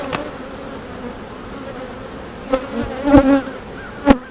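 Close honeybee buzzing hums through a hive inspection, quieter at first and then swelling, with a few sharp taps and clicks from frames being moved.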